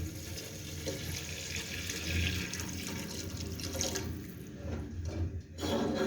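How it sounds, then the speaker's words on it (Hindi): Water pours steadily into a pot for several seconds, a continuous close rushing splash with no talking. "अब 2 गिलास में पानी ऐड करूँगी"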